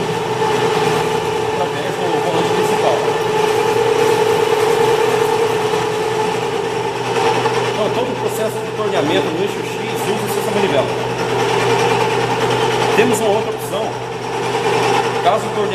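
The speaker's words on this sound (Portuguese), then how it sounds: "Estou torneando um comprimento de 20 milímetros." A metal lathe turns a workpiece over a 20 mm cutting length with a steady mechanical whine and hum, with a few faint clicks and scrapes, under continuous talk.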